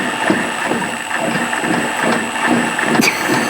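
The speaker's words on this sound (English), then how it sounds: "That sounds exactly like that clanking I be hearing when I'm driving, and I'm over here thinking it's my shocks, but it's this lower control arm." A loose lower control arm on a Honda Civic EG hatch, heard as repeated light mechanical clanks and ratcheting knocks over a steady engine hum, close and moderately loud, in an irregular rhythm, with no talk.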